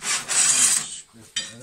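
Metal scraped while forging a centre punch, a harsh rasping stroke lasting most of a second, then a quieter gap and a short second scrape, close and dry.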